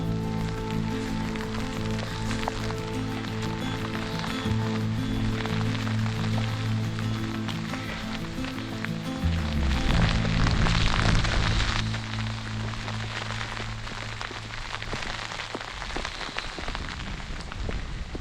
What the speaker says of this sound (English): Pouring heavy rain now.